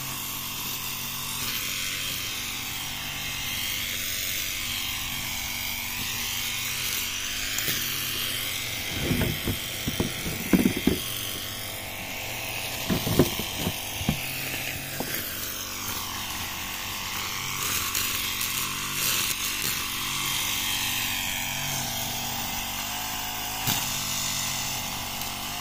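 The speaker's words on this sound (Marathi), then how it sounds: "आणि पप्पा ग्रास कटर फिरवत आहेत बघा।" A brush cutter whines steadily as it cuts grass in a village orchard of jamun trees in the Konkan, a continuous buzzing engine drone with brief louder bursts where the blade bites into growth; no talking is heard.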